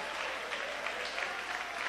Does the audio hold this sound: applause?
yes